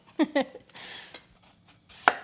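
A knife slices through a crisp Korean pear on a cutting board, two quick crunchy cuts followed by a lone sharper chop, close and clear.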